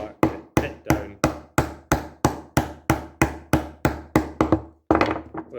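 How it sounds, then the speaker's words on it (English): A chisel struck with a mallet to clean up a wood edge: about fourteen sharp, evenly spaced knocks in a steady rhythm, close and loud, then a short pause and one last blow. "with my chisel there to clean up my edge"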